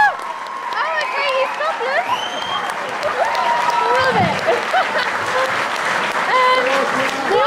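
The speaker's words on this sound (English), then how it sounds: "Ladies and gentlemen, round of applause," Audience applauding a band at a live concert, dense steady clapping mixed with cheers and whoops from the crowd, holding loud and continuous throughout.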